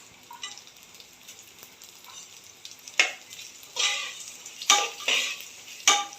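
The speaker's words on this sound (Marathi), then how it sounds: "तांदूळ हलक्या हाताने परतून घ्यायचं आहे, जेणेकरून बासमती तांदळाचा दाणा मोडता उपयोगाचा नाही." Basmati rice gently sautéed in a pan for traditional sweet coconut rice (narali bhat), giving a soft steady sizzle with several louder scraping stirs toward the end, no talking.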